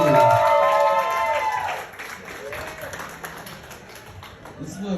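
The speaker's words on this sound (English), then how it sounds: "Let's give another big round of applause for your host" Comedy club audience applauding and cheering for the host, a warm wash of clapping that starts under a voice and then carries on more softly.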